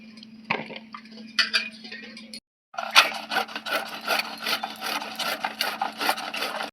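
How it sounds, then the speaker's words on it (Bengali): A tomato is grated by hand in a home kitchen while cooking, giving a series of rough, rhythmic scraping strokes with a brief pause in the middle, close and moderately loud. "আমি একটা টমেটো ঘষে নিচ্ছি"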